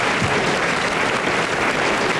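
Studio audience clapping at a live medical talk show, a dense steady wash of applause filling the whole moment at even loudness, with no voices over it.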